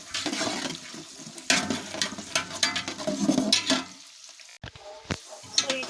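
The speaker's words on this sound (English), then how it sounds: "I'll have to add my green pea inside the pot and stir the pot very well" Green peas being stirred in a pot of fried rice: wet, sizzling scraping and churning close by, fairly busy for about four seconds, then quieter with a couple of sharp clinks and a final scrape.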